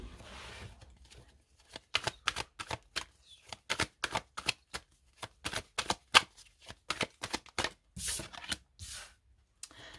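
Osho Zen Tarot cards shuffled by hand, a close, quiet run of quick crisp riffling slaps in an irregular rhythm, with no talking.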